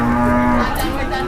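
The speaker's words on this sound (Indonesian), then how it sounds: "Sapi ini lagi keluar dari kandang wis dikageti ya." A startled cow at a livestock market gives a loud, close moo that holds a steady low tone for about a second before breaking off, with no one speaking over it.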